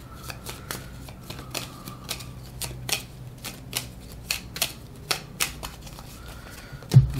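A deck of playing cards for a Harry Potter Hogwarts Battle board game being shuffled by hand: quick crisp riffles and snaps in an irregular run, close and clear, ending with a firmer knock.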